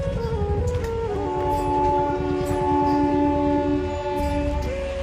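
A train at Adra station sounds a long, loud horn of several steady tones over a deep rumbling engine, the blast holding for a few seconds before shifting pitch near the end.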